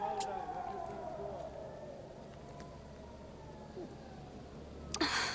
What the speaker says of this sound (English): The siren just stopped